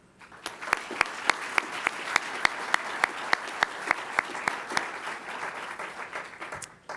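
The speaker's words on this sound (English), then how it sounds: "Can we please give a big round of applause to all of our graduates here today?" Pilot training graduates at an Air Force base ceremony receive applause, with a distinct rhythmic clapping of a few people standing out over softer scattered clapping, sustained for several seconds and then tapering off.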